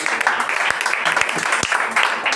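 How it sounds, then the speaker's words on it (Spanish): A church congregation claps together during a Spanish-language worship service, a dense, lively patter of many hands with voices mixed in throughout. "Denle un aplauso a la palabra"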